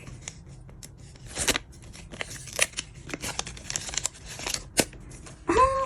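Crisp paper rustling, tearing and crinkling as a paper surprise packet from a new collection is opened by hand, close and busy with sharp bursts, plus a few short high squeaky tones near the end.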